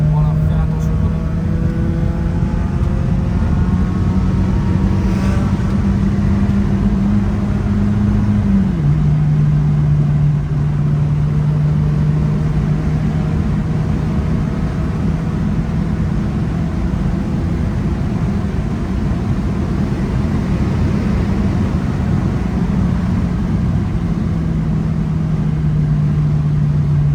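A BMW 318i driven hard on the road, its engine droning steadily from inside the car and shifting pitch as it pulls, with road noise underneath and someone talking over it throughout.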